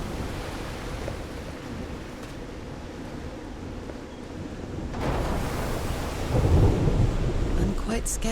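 Thunderstorm in the video game Call of the Sea, steady heavy rain hiss with low rolling thunder that swells and grows louder toward the end, no voices.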